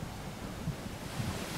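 Sea waves wash against the shore in the stealth video game Splinter Cell: Chaos Theory, a steady low surf rumble with soft swells, heard alone with no voices.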